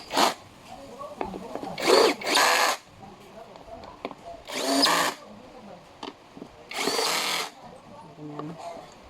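A power drill tightens bolts while a black fabric office chair is assembled, whirring in four short, loud bursts spaced over several seconds, with softer handling noises between them.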